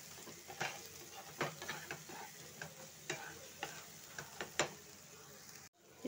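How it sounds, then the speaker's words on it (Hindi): Chili being stirred into mixed vegetables frying in a pan, with quiet sizzling and a series of spoon scrapes and taps at an uneven pace, close and fairly soft, ending in a brief cut. "अब इसको अच्छे से चलाएंगे। इसको अच्छे से चलाना है।"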